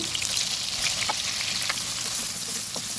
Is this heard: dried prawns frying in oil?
yes